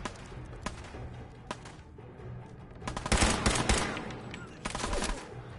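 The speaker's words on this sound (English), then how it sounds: "Heard gunshots, and I was like, hey." Gunfire in the video game Fallout 4: scattered single shots early, then dense rapid automatic bursts in the middle and near the end, fairly loud over a low game background hum.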